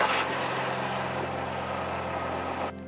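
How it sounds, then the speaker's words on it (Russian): A Skoda Fabia II car engine idles steadily with a constant low hum and faint vibration, run until the cooling fan switches on during an antifreeze change, then cuts off abruptly near the end. "Запускаем двигатель до включения вентилятора."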